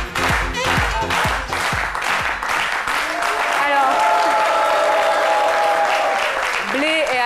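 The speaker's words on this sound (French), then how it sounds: "que je vous demande d'applaudir" A TV studio audience applauds a guest arriving on a French daytime talk show, a dense, steady burst of many hands clapping close by for several seconds, with a voice speaking over it partway through.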